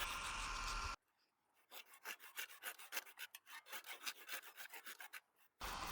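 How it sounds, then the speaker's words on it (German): Worn flea-market hand saw cutting off a tree branch for a homemade cat tree, close and fairly quiet, with a steady run of rasping back-and-forth strokes. "Hier säge ich dann auch schon den ersten Ast weg, den wo ich nicht mehr haben will."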